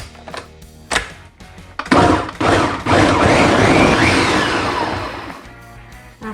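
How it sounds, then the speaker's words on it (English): A kitchen blender purees washed grapes. A few knocks and clunks lead into a loud, steady, close motor whir that holds for several seconds and then winds down. "Now I'm sticking them in my trusty blender"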